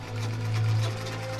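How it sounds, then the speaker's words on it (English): A sewing machine runs steadily at close range, a continuous low mechanical hum with a fast motor drone, no voices over it. "the rhythm of the sewing machine"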